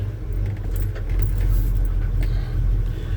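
A 1984 Chevy truck reverses through mud with a close, steady low engine rumble and some light metallic jingling, no voices heard.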